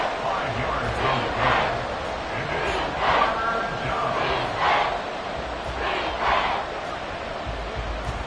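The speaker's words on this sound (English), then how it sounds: "The Arrowhead crowd in full roar." Arrowhead Stadium crowd at a football game roaring steadily in a dense, continuous wash with swelling peaks, while a commentator talks over it.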